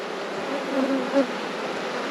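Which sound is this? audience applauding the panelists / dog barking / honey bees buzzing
honey bees buzzing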